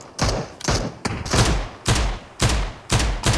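Loud, close gunfire in PUBG Mobile, roughly seven heavy shots spaced about half a second apart in a steady rhythm, each with a booming tail, and almost no talk over them.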